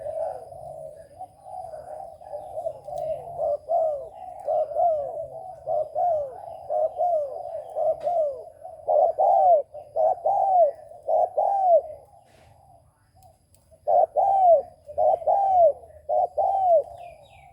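A spotted dove coos over and over in a steady rhythm of soft, hollow phrases with a couple of brief pauses. It is clear and close.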